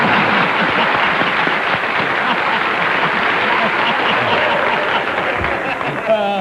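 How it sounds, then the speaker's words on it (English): A 1955 television studio audience applauds in a dense, sustained wash of clapping that fills the whole stretch, close and loud, with a voice entering briefly at the very end. "Bill, we'd like you to make the audience applaud"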